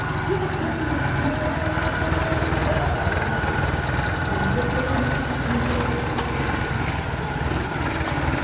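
A Toyota Bigbody engine runs steadily at idle after a connecting rod bearing replacement, a close, even mechanical rumble with faint voices talking underneath.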